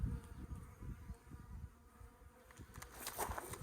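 Bees buzzing around a hive low on pollen with crystallized nectar in the comb, a steady close swarm drone with individual bees passing near, no voices.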